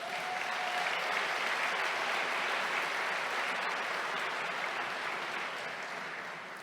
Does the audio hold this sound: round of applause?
yes